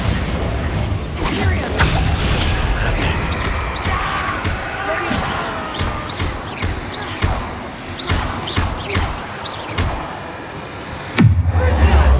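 Bombarda blasting spell detonating in Hogwarts Legacy amid busy game combat, with several sharp impacts and crashes over a continuous effects bed, a heavy boom near the end, and voices speaking at times.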